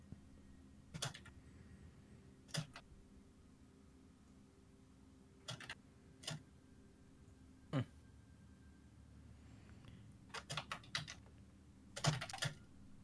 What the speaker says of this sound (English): I'm just typing feverishly